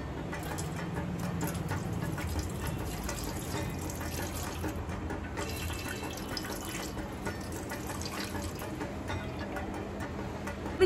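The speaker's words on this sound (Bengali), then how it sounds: "জল ঢেলে দিয়েছি" Water poured from a bottle over made-up skin to test waterproof makeup, a steady close trickle and splash running continuously without pause.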